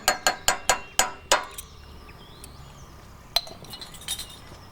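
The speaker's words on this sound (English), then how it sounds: "this needs quite a stir for it to combine" A spoon clinks against the vessel while stirring Worcestershire sauce and Dijon mustard into a peppercorn sauce for steak au poivre: six quick, bright taps in a steady rhythm, then near quiet with a few faint knocks later.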